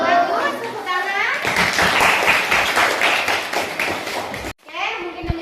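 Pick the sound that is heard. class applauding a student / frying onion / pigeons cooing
class applauding a student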